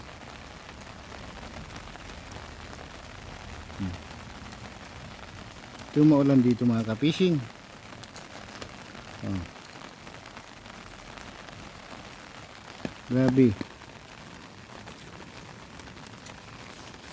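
Steady rain patters on a surface throughout, a continuous hiss with a man's brief remarks breaking in a couple of times.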